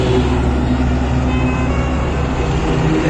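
Bajaj Dominar motorcycle riding past on a road, a steady, loud engine and road rumble continuing throughout with no pause and no talking.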